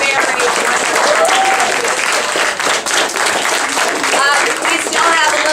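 Audience applauding student actors after a Romeo and Juliet play, a full, sustained round of clapping filling the room at a steady level, with some voices in the background.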